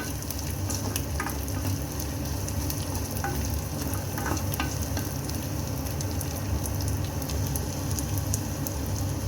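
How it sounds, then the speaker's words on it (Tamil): Garlic cloves and small onions frying in a pan for kara kulambu, a steady dense sizzle with occasional crackles and stirring, no voices. "இப்போ இது எல்லாத்தையும் நல்லா ஃப்ரை பண்ணிக்கலாம் ஒரு டூ மினிட்ஸ்க்கு"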